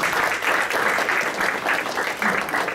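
A seated audience at a disaster-response training event in the Philippines claps for a speaker, a dense, continuous burst of applause at even strength throughout, fairly close and with no speech over it.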